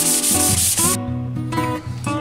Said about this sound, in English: That hand sanding stuff is for the birds.